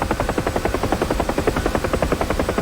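A UH-1H Huey helicopter in DCS World, practicing autorotation, makes a steady rhythmic rotor thump with fast evenly spaced blade slaps. It is loud and continuous, heard from the cockpit with no talking.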